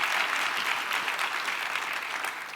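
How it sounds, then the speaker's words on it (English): Applause for Adrienne Adams at a mayoral forum, dense and steady from a sizeable crowd, tapering slightly at the end, with no talk. "Let's give her a round of applause"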